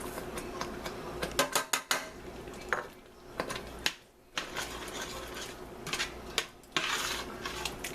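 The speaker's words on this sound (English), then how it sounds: "Give that a stir." A metal spoon stirring homemade chili in a pot, with clattering scrapes and knocks against the pot sides in irregular bursts and brief pauses, fairly close, no talking.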